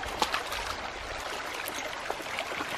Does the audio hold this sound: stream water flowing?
yes